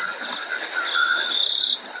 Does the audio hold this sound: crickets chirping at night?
yes